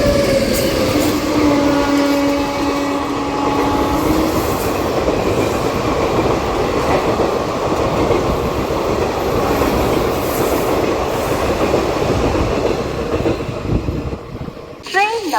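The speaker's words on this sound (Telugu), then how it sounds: "అనంతపురం రైల్వే స్టేషన్ ట్రైన్ వస్తుంది ఐసీఎఫ్ కోచెస్ తోటి, వ్యాప్ 7 లోకోమోటివ్ తోటి." A passenger train with ICF coaches hauled by a WAP-7 electric locomotive rolls steadily into Anantapur railway station, a loud continuous rumble of wheels and carriages with a brief squeal near the end.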